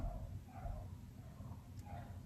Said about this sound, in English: my neighbor's dogs will start barking as soon as I start recording